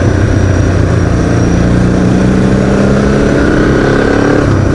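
A Honda CRF Rally 300 motorcycle engine drones loudly and continuously at close range, with a steady low-pitched roar during the Open Roads Rally.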